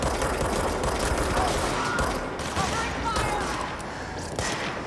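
Continuous dense gunfire from a shootout in the video game Control, loud and sustained across the whole stretch with overlapping bursts, and a voice talking over it.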